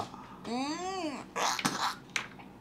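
A few short, rough coughs from someone eating during a one-hand, two-hand and no-hand eating challenge, following a drawn-out voiced moan and standing out close and fairly loud.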